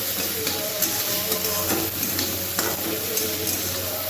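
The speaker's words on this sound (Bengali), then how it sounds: "খুব অল্প সময় হচ্ছে এটাকে একটু ভেজে নেবো" Goat leg meat fries in a pan, a steady close sizzle with repeated scraping strokes of a spoon stirring it, the spatula scrapes coming at an irregular, unhurried rhythm over the continuous crackle.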